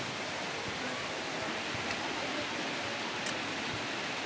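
Heavy rain pours in a steady dense hiss, close and unbroken, with no pauses or distinct drops.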